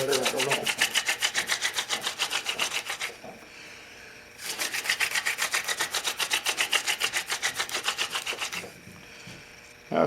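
Drilling a walnut wood handle makes a fast, rhythmic scraping and grinding, heard as two long bursts of rapid strokes separated by a short pause, close and fairly loud.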